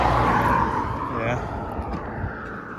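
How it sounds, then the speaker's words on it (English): A car passes along the road, its engine noise swelling and then fading away over a couple of seconds while a voice talks nearby. "There's a car coming."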